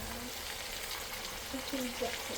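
Vegetables including Brussels sprouts, with okra nearby, cook in a pan with a steady, faint hiss of sizzling, plus a few small stirring sounds along the way.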